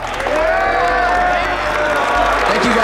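An audience at a Blue Collar Tour welding academy event in Colorado Springs claps steadily in a loud, sustained round of applause, with crowd noise and cheering mixed in.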